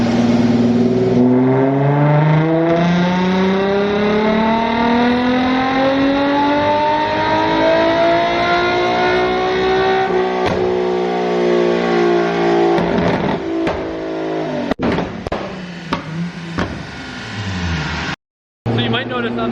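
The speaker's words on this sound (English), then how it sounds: "So you might notice on the Z, it isn't really noticeable when the nitrous kicks in." A Nissan 350Z accelerating hard on nitrous, its engine note climbing steadily through the gears, loud and close from inside the car, ending in choppy shifts and a brief dropout.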